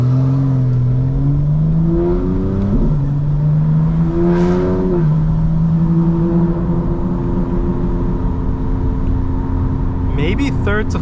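A tuned 900 HP 2025 BMW M4 Competition pulls hard through the gears from inside the cabin, engine pitch climbing and dropping at each upshift, loud and continuous with no voices.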